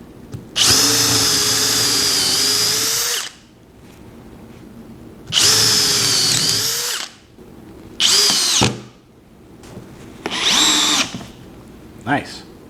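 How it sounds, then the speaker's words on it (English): A cordless hammer drill driver whirs loudly in four bursts: two long runs of a few seconds each, then two shorter ones, with quiet pauses between. "It's a regular drill driver with the added benefit of being a hammer drill."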